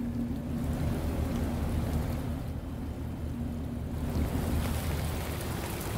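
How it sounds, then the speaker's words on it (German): Rain ambience in the detective video game Shadows of Doubt, a steady dense hiss of falling rain with a low rumbling undertone, continuous and even throughout with no talk. "Hat wieder einen schönen Regeneffekt, das Game."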